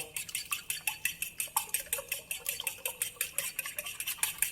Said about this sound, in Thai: ตีเบาๆค่ะ ใช้วิธีการคนก็ได้นะคะ เราก็ตีเหมือนเราทำไข่เจียว